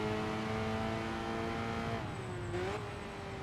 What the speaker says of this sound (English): You can hear the slightly more aggressive exhaust note and intake note as well.